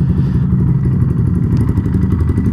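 A quad bike exhaust rumbles deep and loud up close, a throbbing low burble with no voices over it.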